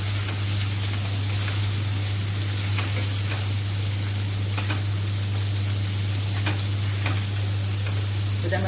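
Drumstick pods sizzle and fry in a hot pan while being stirred, a loud, continuous crackling hiss with scattered scraping stirs and a low steady hum beneath, with no talking.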